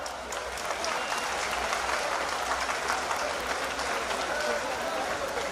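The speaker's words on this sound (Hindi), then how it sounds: "आप सब तालियों के पुष्पों से स्वागत करें" A large audience at the Lucknow Municipal Diwali Mela applauds to welcome UP Chief Minister Yogi Adityanath, steady dense clapping filling the whole stretch at an even, loud level with a low hum underneath.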